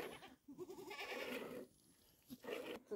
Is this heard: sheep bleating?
yes